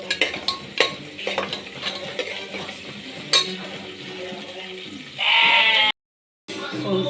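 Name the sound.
ginger garlic paste frying in a pan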